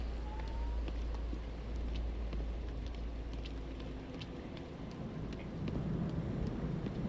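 Steady, dense rain pours in the video game Nobody Wants to Die, a constant close hiss with a low rumbling undertone and scattered sharp drips throughout.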